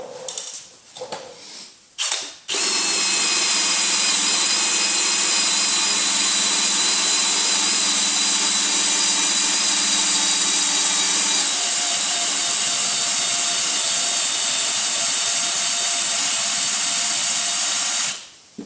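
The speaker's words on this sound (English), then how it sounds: "Be right back with the eraser wheel." An eraser wheel spinning against the rear gate of a 2007 Toyota 4Runner to strip emblem adhesive, a loud, steady high-pitched whine that holds for about sixteen seconds after a few short starts.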